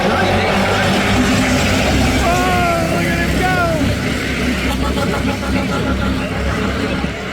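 Race cars rumble and rev as the field restarts on a green flag, a loud continuous engine roar with brief rising whines, heard under a commentator's voice and crowd noise.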